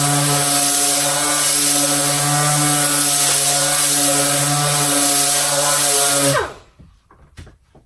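A Dynabrade random orbital sander runs steadily back and forth with the grain, a loud close whine with a constant pitch for about six seconds before it spins down and stops, leaving light handling noise.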